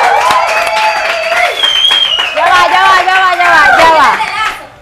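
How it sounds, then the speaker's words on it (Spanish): A crowd at the Pepsi Stream season-finale show with La Vida Bohéme applauds, loud clapping mixed with excited shouting and cheering voices, swelling near the end before cutting off. "eso merece un aplauso"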